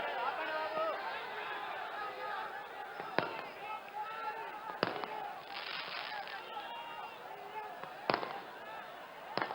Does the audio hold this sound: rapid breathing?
no